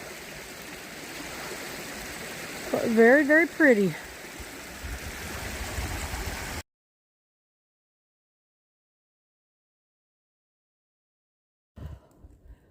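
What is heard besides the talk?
Swapping Camp Creek flowing on Appalachian Trail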